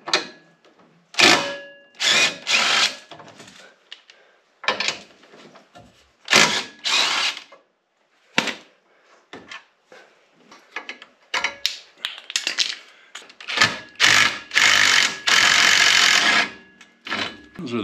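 Short, loud bursts of a power tool, like an impact driver or drill, whir and stop repeatedly while bolts come off the bumper of a Polaris Ranger UTV, with quieter mechanical clinks and pauses between runs.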